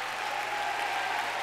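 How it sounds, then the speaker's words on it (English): Applause from a camp meeting congregation, a steady wash of many hands clapping at even, moderate loudness throughout the brief moment. "Clap your hands and shout."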